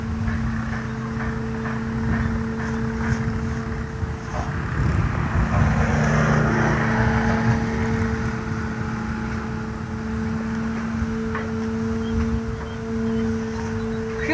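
Strong wind roars over a river where a large flute kite is being flown, a dense, continuous rushing rumble with a steady droning hum running through it and no pauses.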